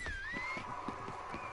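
A horse in Red Dead Redemption 2 trots with steady clip-clop hoofbeats and a faint whinny, heard close over a continuous game ambience with a high tonal hum.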